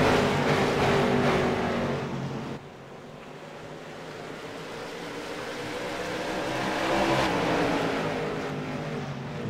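Late model stock cars roar as they accelerate together on a green flag restart at a short oval, a broad loud engine wash that dips briefly then swells again as the pack builds speed.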